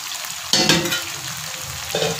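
Pasta drops into a hot frying pan for a chicken macaroni dish and gets stirred, with two sharp scraping sizzle bursts over a continuous background fry.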